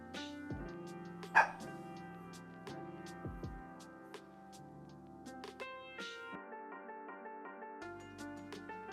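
Indoors during a card-game stream, a dog gives one loud bark followed by a few fainter yips and barks, all under steady background music.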